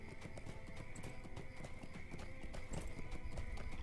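Horse hooves galloping in the Lord of the Rings Online game, a fast steady clip-clop over a constant low hum, moderately loud and continuous throughout.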